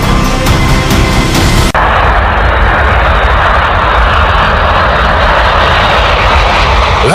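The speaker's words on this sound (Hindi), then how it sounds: "गाजियाबाद के हिंडन एयरबेस पर इंडियन एयरफोर्स का यह C-17 ग्लोबमास्टर विमान जर्मनी के फ्रैंकफर्ट से 4 क्रायोजेनिक ऑक्सीजन कंटेनर लेकर पहुंचा है" An Indian Air Force C-17 Globemaster at Hindon Air Base in Ghaziabad roars loudly and continuously, a broad, heavy jet-engine rush that stays intense throughout with a harsher tonal whine in the opening seconds.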